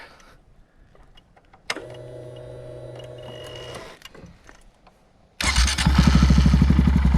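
A 2022 Honda Grom SP motorcycle with aftermarket exhaust cranks with a whirring starter, goes quiet, then catches and roars into loud, rapid revving.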